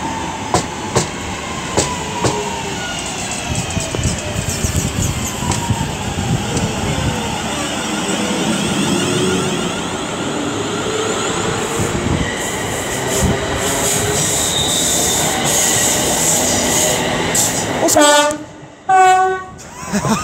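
A departing train at Aston platform rumbles and squeals along the rails under steady station noise, and a distinct two-tone signal sounds near the end, loud and close, followed by a brief drop into quiet.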